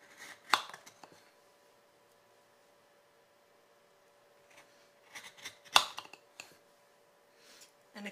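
Knife slicing down through the crust of a layered pistachio dessert lasagna, giving two sharp crunchy cracks and a few softer scraping cuts with quiet pauses between, close and fairly loud with no talking.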